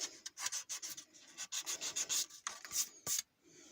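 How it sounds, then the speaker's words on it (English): Fine sandpaper rubs back and forth over a plastic model car body to remove a moulded door handle. Short scratchy strokes come close up in an uneven rhythm, with a brief pause near the end and no talking. "So you sand it till it's gone."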